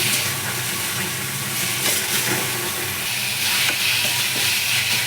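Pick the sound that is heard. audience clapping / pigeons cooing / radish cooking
radish cooking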